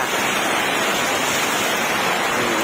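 Floodwater pours through a drainpipe and along the ground after a short, heavy rain, a steady broadband rush that stays loud and unbroken throughout.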